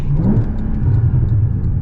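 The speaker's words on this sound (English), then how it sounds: "the gargles you get out of the exhaust, fantastic" A 981 Porsche Boxster S exhaust rumbles and revs up close, a deep throaty burble with crackling gargles, loud and steady throughout.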